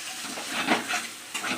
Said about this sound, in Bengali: আর একটু আমি 10 মিনিটের জন্য ভেজে নেব